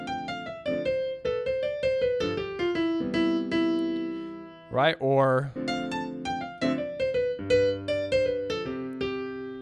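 A jazz piano improvises a stream of plain diatonic single-note lines over chords with no chromatic passing tones, clear and close, pausing briefly midway while a voice speaks a couple of words before the playing resumes.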